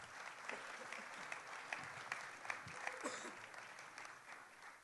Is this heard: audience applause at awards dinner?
yes